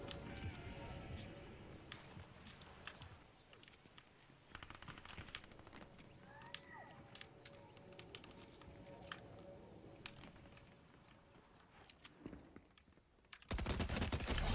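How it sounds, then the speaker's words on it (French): Pistol gunfire in a Fortnite-style battle royale game, a scatter of sharp shots and bursts spread through the clip over busy game sounds, ending in a loud dense burst. "Ok, là j'ai un pistolet."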